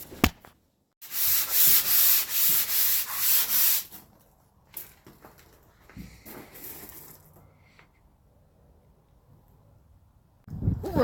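Sanding on the body of a 1983 Chevy being prepped for paint, a loud steady rasping run of about three seconds near the start, then quieter scattered rubbing and handling noises, with another burst of sanding at the very end.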